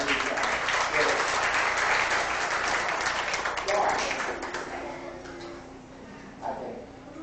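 Family reunion gathering applauding, a sustained round of clapping from a room of people with voices mingled in, gradually fading toward the end.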